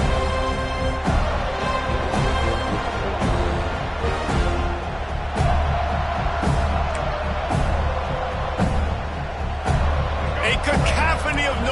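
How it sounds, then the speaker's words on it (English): A home stadium crowd roars continuously in the NCAA 26 college football video game, FSU versus Bama, with sharp thumps at intervals and a commentator talking over it throughout. "how nice is it to have the home crowd going absolutely bananas?"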